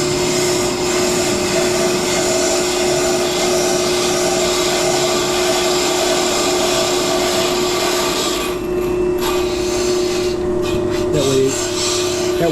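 A brake lathe resurfacing a front brake rotor from a Ford Crown Victoria or Mercury Grand Marquis police car gives a loud, steady machine hum with a constant whine and a scraping cut that shifts near the end.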